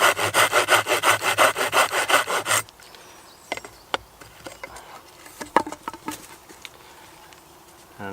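A Silky pull saw cuts a notch into wood for a bushcraft chair, giving about a dozen loud, rhythmic rasping strokes, then light knocks and scrapes as the sliver is worked free.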